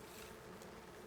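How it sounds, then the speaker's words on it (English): Bees buzzing in a cave in the video game Icarus, a faint steady drone with no voices. "Let's go ahead and kill off the bees."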